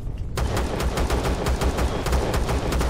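Rapid gunfire in the sci-fi survival game Empyrion, a dense stream of shots fired in quick, steady bursts for the whole stretch, loud and close, with no talking over it.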